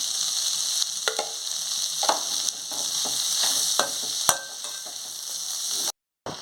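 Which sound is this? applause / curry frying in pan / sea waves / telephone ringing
curry frying in pan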